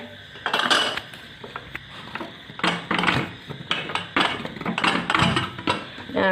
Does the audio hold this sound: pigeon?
no